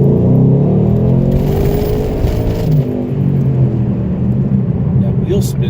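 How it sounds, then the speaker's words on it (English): A Ford Mustang spinning its wheels and hopping, a loud close engine roar with rumbling, shuddering tire noise that holds steady throughout. "That wheel spin, wheel hop, I mean. Oh, that that shook the camera up."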